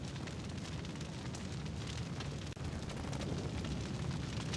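A taxi burning in a raging fire in the Tony Hawk's Underground video game, a dense continuous roar and crackle that holds steady and loud, with one brief dip partway through.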